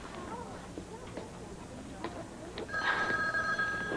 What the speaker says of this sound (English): I gotta get the phone.